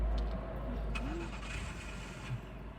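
Car engine starting during a driving test practice at a service centre, a faint crank and catch into a low idle, heard quietly inside the vehicle with a brief rising whine.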